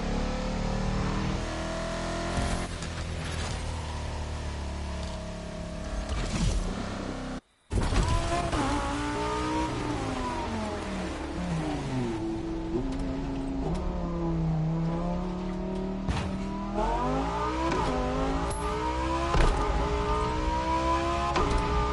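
Car engines in the racing game The Crew Motorfest rev and roar, pitch climbing and falling in repeated sweeps as gears shift, loud and continuous apart from one abrupt momentary cut, with no talking.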